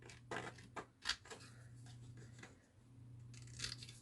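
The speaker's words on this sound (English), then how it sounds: "now I'm just going to cut" Scissors snipping around the edge of a backed paper tag for a Stamperia Winter Tales minibook, a few quiet irregular cuts close by over a steady low hum.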